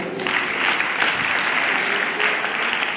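Audience clapping at a public gathering in Bidar, a dense, steady wave of applause that holds evenly from start to finish with no voices over it.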